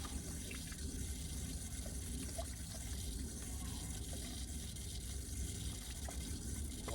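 Water from a three-stage dechlorinator filter for a koi pond runs steadily into a measuring container, a continuous trickling flow lasting the whole time with no talk.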